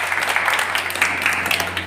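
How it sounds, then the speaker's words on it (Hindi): Applause during a Vishwakarma Shram Samman training session, steady clapping from a group held at a fairly even level for the short stretch, with a low hum underneath. "जोरदार तालियां इनके लिए"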